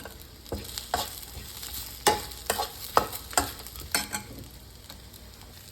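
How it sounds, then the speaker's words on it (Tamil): Curry leaves fry in oil in a pan for an onion chutney, with a soft sizzle broken by a series of distinct scraping stirring strokes, close and fairly loud, with no talk. "கொஞ்சமாக கருவேப்பிலை ஆட் பண்ணிக்கலாம்."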